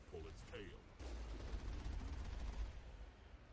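Heavy turret fire in the video game Mass Effect, a dense rumbling barrage of booming shots that swells after a brief pause and keeps pounding steadily, loud and close, with faint voices underneath.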